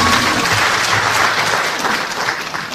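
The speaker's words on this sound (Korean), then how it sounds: "박수 부탁드리겠습니다." Audience applause at a book launch event for a former Ulsan Dong-gu district head, a dense, steady wash of many hands clapping loudly throughout, fading slightly toward the end.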